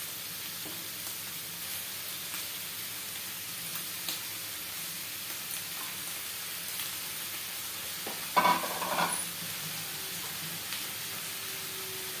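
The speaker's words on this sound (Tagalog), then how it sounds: "isusunod na natin yung beef stripes guys" Beef strips with ginger frying in a pan, giving a steady low sizzle close by, with a short burst of louder stirring and scraping partway through, without any talk.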